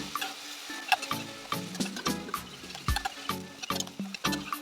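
Onions and green chillies sauté in a pan, loud crackling sizzle broken by repeated scraping stirs of a spatula at an irregular rhythm, close up with no voices.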